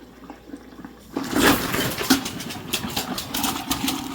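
Water rushes in turbulent bursts as a 2008 Jeep Liberty heater core is back-flushed with a hose and air, starting abruptly after a quiet moment and then gurgling and spluttering loudly and unevenly close by.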